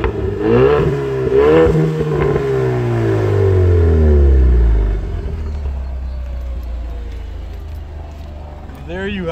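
A 2019 EcoBoost Mustang exhaust in track mode revs up and falls back, a deep rumble with swelling and fading pitch, heard with people talking over parts of it.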